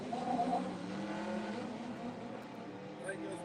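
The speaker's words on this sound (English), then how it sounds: "Next pair, the Morris 8. Alex Stevenson taking on Craig Evans with the Raggy Conversions Corsa" Drag racing cars, a Morris 8 and a Corsa, make a pass at Santa Pod, their engines a faint, distant, steady roar under a voice speaking throughout the short stretch.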